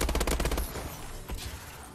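The Inferno gun in a shooter video game fires a rapid burst of close, loud automatic shots at the start, trailing off into scattered reports and game noise.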